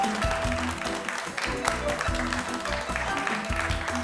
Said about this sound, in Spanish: Un aplauso para elas.